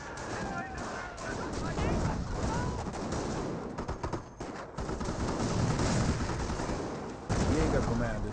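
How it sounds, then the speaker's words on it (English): Sniper shots ring out in the Company of Heroes battle, sharp reports over a dense bed of wartime gunfire and explosions, with a voice talking over the action. "Couple snipe shots there."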